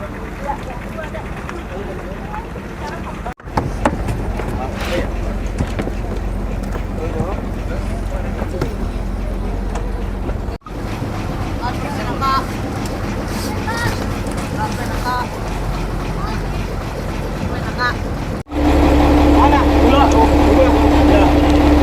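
A small open-trip boat motors toward a remote turtle-breeding island, its steady engine drone and wind buffeting the microphone continuously, with a voice speaking over the noise.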